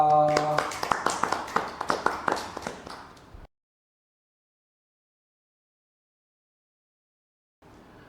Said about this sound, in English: let's give ourselves a loud applause